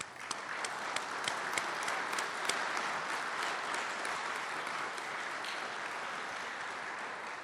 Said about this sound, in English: Please join me in showing our appreciation with a round of applause